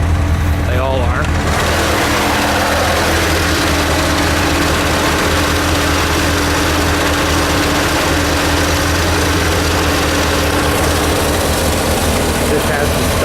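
A 1984 Chevrolet Corvette C4 with its stock engine and tuned-port fuel injection idles steadily, a constant low rumble that runs unbroken and fairly loud throughout.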